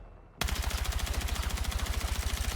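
Automatic weapon fire in Battlefield 6 bursts in after a short quiet lead-in, a loud, steady rapid stream of shots with a tight regular rhythm that continues without pause to the end.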